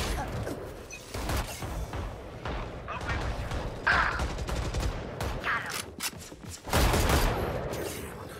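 Gunfire rattles through a team deathmatch round on the shooter map Drift, with repeated shots and bursts over a busy game mix while players talk over it.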